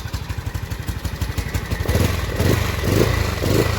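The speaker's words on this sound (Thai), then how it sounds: "เดี๋ยวผมสตาร์ทเครื่องให้ฟังนะครับ ติดแล้วนะครับ" A used motorcycle running on E85 fuel starts up and settles into a steady, close idle, its rapid exhaust pulses quickening into a lumpy, even putter with no one talking over it.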